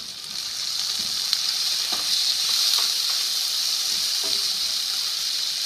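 Tomatoes hitting hot cooking oil in a pan for Punjabi kadhi, giving a loud, steady hissing sizzle close by with a few faint stirring clicks.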